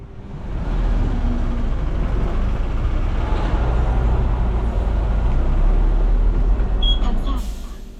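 A city bus rolls through Yeosu, giving a steady, close engine rumble and road roar throughout, with faint higher clatter near the end.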